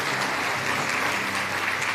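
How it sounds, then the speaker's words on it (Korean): Concert audience applauding as Innodesign chairman Kim Young-se is welcomed onto the stage at an entrepreneurship concert, an even, continuous roar of clapping from a full hall with no speech over it. "큰 박수로 맞이해 주시죠."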